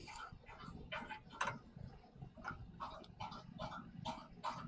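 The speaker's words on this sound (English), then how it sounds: "They awoke from their slumber to drink water." Dogs lap water in a quiet room, a faint, steady rhythm of wet slurps repeating about twice a second with no other sounds around them.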